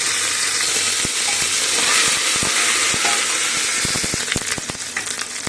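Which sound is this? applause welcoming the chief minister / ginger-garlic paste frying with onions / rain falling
ginger-garlic paste frying with onions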